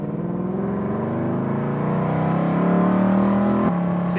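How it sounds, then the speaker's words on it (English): A 1967 Shelby GT350 pulls hard at full throttle, its V8 engine rising steadily in pitch through a gear, loud and close, ending with a quick shift, no talk. "Here we go, full throttle."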